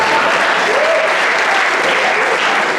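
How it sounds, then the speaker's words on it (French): An audience applauding cooks at a French event, sustained dense clapping throughout, loud and close, with a voice briefly heard over it. "Applaudissez pour les chefs,"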